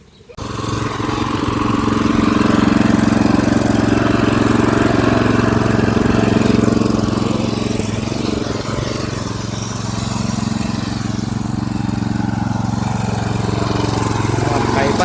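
A farm machine engine drones steadily and loudly at close range in a field at rice-transplanting time, with voices talking over it.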